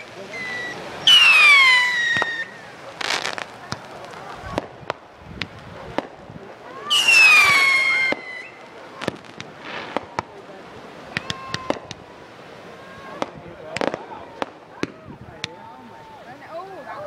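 Fireworks exploding over a beach in 2012, with whistling rockets rising into loud bangs followed by scattered crackling pops, nearby and intermittent, while people talk in the background.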